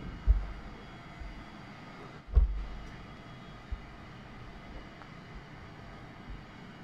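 A steady low airplane-cabin drone plays as a sound effect in a stage play about race and immigration, a continuous faint hum with a few soft thumps scattered through it.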